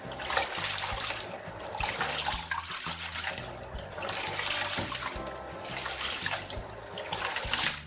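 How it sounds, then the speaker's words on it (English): Dry okra being washed in a bowl of water by hand, with sloshing, swirling and trickling water in repeated surges, close and fairly loud, no talking. "When you wash it very well, because there's often sand in the dry okra"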